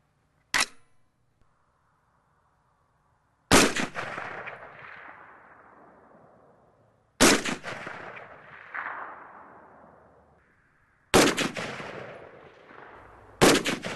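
An AR-10 rifle chambered in .308 fires at targets out to 330 yards, four sharp, loud shots spaced a few seconds apart, each with a long rolling echo that fades before the next report.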